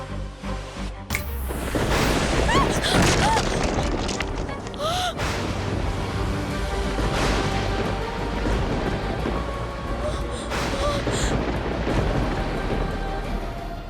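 A thunder sound effect with a sudden heavy crack that rolls into long, loud rumbling over a continuous rain-like hiss, with brief higher tonal chirps scattered over it and no pause for nearly fourteen seconds.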